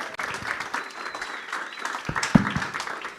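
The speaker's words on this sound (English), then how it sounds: "let's give a round of applause for our panelists and our moderator" An audience at an evening art salon applauds panelists and a moderator, dense sustained clapping from a crowd with a few louder claps standing out near the end.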